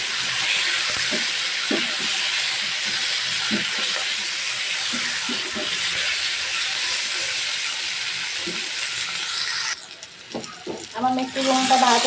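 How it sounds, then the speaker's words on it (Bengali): Ginger garlic paste frying in oil in a pan for katla fish curry, a steady loud sizzling hiss with occasional spoon scrapes, ending in a few clatters as the sizzle drops away. "এটা দিয়ে এখন হালকা একটু ভেজে"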